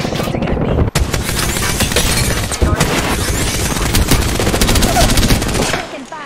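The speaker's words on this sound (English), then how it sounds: "Taking fire." Dense gunfire in Apex Legends: rapid automatic bursts and loud shots run almost continuously, with one sharp break early on, and a voice calls out briefly over the shooting.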